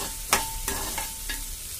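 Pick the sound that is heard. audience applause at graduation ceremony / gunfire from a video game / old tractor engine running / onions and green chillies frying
onions and green chillies frying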